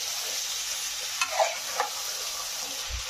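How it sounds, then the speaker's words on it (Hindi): Chicken and onions sautéing in a pan with masala for palak chicken, a soft steady sizzle with a few scraping stirs of a spoon, fairly quiet and without voices. "चिकन और प्याज को अच्छे से भून लेंगे"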